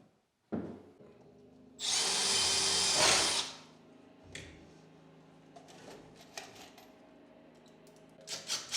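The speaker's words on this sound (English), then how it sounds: "when we fix the top shelf in and screw it down from the top" A cordless power drill drives a screw down through the top shelf of a built-in sliding wardrobe in one loud burst of under two seconds, followed by knocks and wooden handling clatter.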